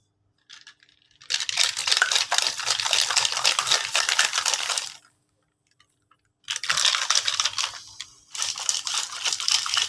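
Kulukki sarbath, a Kerala lemon drink, shaken hard in covered glasses: bursts of rattling, sloshing liquid and ice, two long shaking spells split by a short pause, close and clear with no talking.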